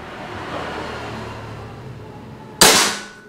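A single sharp air rifle shot from a Bocap Predator Tactical SAS 500cc cracks out near the end, loud and close, after a stretch of quiet outdoor background hum, then fades quickly.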